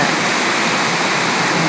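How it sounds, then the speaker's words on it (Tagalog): Heavy tropical downpour pouring steadily outside a home veranda in the Philippines, a loud dense hiss of rain with no break or talk. "Malakas yung ulan."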